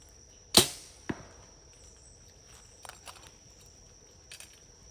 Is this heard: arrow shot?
yes